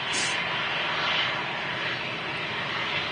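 An easyJet airliner's jet engines roar steadily and loudly at Manchester Airport, a continuous broadband rush that holds for several seconds without voices.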